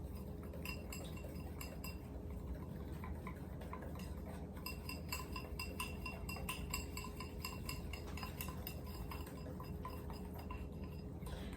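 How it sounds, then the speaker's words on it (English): A whisk clinks rapidly and steadily against a bowl as a lemon glaze is beaten, a continuous close metallic ticking with no voices. "And you're just gonna whisk, whisk, whisk, whisk, whisk, whisk until it gets a nice little white coat"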